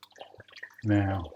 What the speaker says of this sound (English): We'll add our white wine in